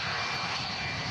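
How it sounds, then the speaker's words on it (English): Loud, steady roar of an aircraft with Rolls-Royce RB211 engines at Manchester Airport on a windy day, a dense continuous rumble with no break, heard close. "Turn up your volumes for this. Gonna really appreciate the sound of the Rolls-Royce"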